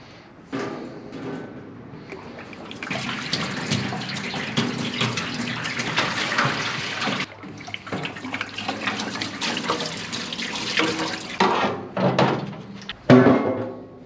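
Parts washer fluid pours into the tank of a Central Machinery 20-gallon parts washer from Harbor Freight, a rushing, splashing flow that runs steadily with brief pauses and a few thunks near the end.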